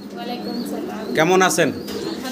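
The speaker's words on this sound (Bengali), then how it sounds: "অনেক কবুতর আছে।" Pigeons at a pigeon farm give a short, close coo amid soft bird sounds, with a person speaking a greeting nearby.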